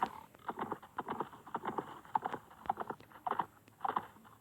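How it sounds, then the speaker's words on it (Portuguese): Horse hooves clip-clopping in Survivalcraft 2: a quick, uneven series of hollow knocking steps, fairly close and moderate in level, continuing for a few seconds without any talking. "Aqui é cheio de burro, cavalo, essas coisas."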